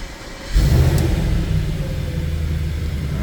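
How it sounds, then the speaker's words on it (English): An Audi S5 engine starting up after crank-no-start trouble, a sudden low rumble kicking in and then settling into a steady, loud running idle close by. "So now let's go and start the car now."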